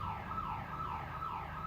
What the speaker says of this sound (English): Siren going off.